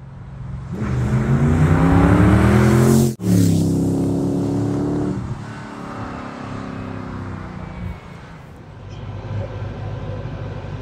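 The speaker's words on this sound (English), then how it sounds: "There's that exhaust again. Just love that tone." An LS V8-swapped DeLorean's Borla exhaust roars loudly as the engine revs hard, briefly cuts out, then settles into a lower rumble that fades and swells again.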